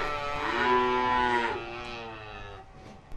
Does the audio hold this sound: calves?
yes